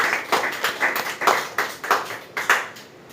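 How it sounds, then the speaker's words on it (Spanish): A congregation at a church service claps in a steady, fairly loud rhythmic beat of roughly three claps per second for about three seconds, then fades. "Un aplauso para el Señor nuestro Dios que nos dio estos ministros competentes"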